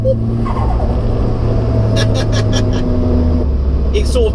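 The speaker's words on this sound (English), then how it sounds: "So, little second gear pull for us" A modified Nissan S14 pulls hard in second gear, its engine a loud, close, steady drone that holds for several seconds, with brief bursts of higher noise partway through and near the end.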